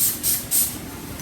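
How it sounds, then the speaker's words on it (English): A small spray bottle mists alcohol onto the tops of freshly poured handmade soaps, giving three quick hissing spritzes close by. "spray the tops of these soaps with alcohol"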